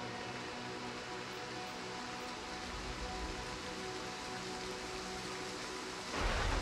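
Steady rain from a thunderstorm during a Total War Pharaoh battle, a continuous hiss of rainfall at moderate level with a sudden louder surge of rain or rumble in the final half second.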